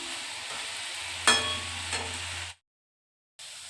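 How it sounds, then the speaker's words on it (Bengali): Potatoes frying in a pan at night, a soft steady sizzle with one sharp clink of a utensil partway through, then a brief total dropout before the sizzle resumes. "এখন রাত্রেবেলা বানাচ্ছি আলু ভাজা"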